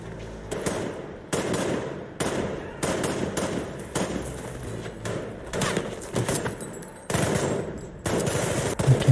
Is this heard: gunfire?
yes